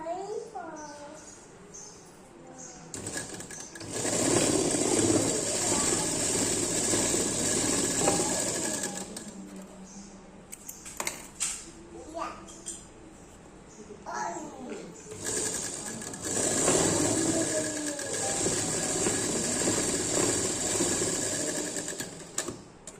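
A sewing machine stitches Patiala pants in two long runs of steady, fast needle chatter, each lasting several seconds, with a quieter pause between them and a voice heard talking in the gaps.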